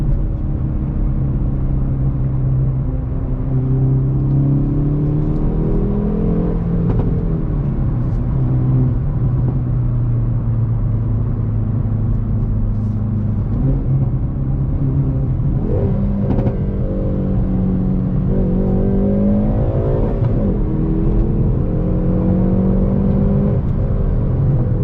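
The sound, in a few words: sports car factory exhaust accelerating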